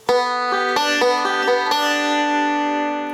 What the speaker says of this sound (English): And following that is the forward-backward roll.